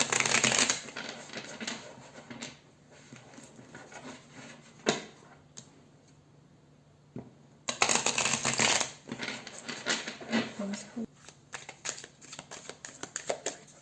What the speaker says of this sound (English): Okay, so I have your deck right here, and we're going to shuffle it